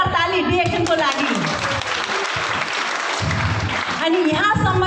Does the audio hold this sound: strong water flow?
no